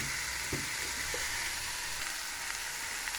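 Potato pieces frying with green and dried chillies in a pan give off a steady, even sizzle, with a couple of soft knocks from stirring near the start and no voices.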